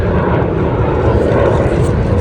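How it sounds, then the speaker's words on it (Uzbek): A fixed-wing airplane landing at Jeddah gives a steady, loud broadband roar of engine and rushing air that holds evenly throughout, with no voices. "Mana samolyot tushib ketyapti."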